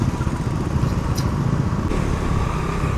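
A KTM motorcycle engine with its exhaust removed idles steadily nearby, giving a continuous low, rough rumble with a brief higher clatter partway through, and no talking over it.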